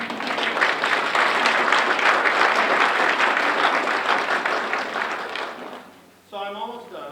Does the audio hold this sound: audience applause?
yes